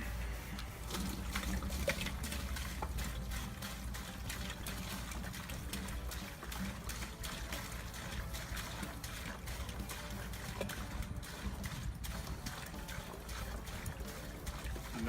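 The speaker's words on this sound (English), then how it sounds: "what I'm going to do is take this and pour it off into our wine bucket" Homebrewed ale is poured from one vessel into a wine bucket, a steady splashing trickle of liquid running throughout, moderately quiet and fairly continuous.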